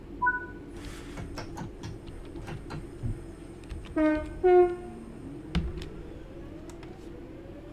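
A train in the Train Sim World game on the Glossop line sounds a two-tone horn with short blasts, over a faint rolling hum and clicks as it pulls away from Glossop at low speed.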